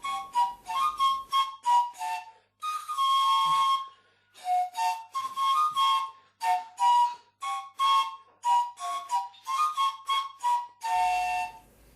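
Slovenian folk melody played on trstenke reed panpipes in a 1990 recording, a breathy whistling tune of short, bright notes in quick phrases with brief pauses, heard alone and close.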